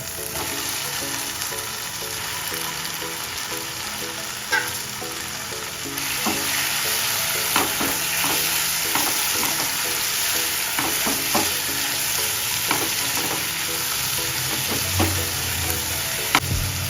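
Prawns fry in a hot pan, giving off a steady, loud sizzle while a utensil stirs them with scraping strokes and occasional clicks. No one speaks.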